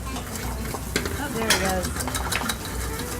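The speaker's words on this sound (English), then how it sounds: "We're gonna put these plantains straight in" Plantains sizzle and fry in a pan, with soft scraping and tossing knocks over a steady crackle, while a voice speaks briefly at moderate distance.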